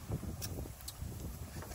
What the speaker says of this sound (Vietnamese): giấc này gió bắc rất là mạnh, hướng này là hướng gió bắc thổi nè, gió này thổi mạnh ghê luôn